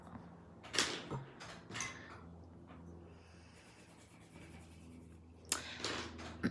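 A pencil scratches across paper in a few quick, faint strokes: short scratchy bursts separated by quiet stretches, close and soft, then another brisk scrawl at the end.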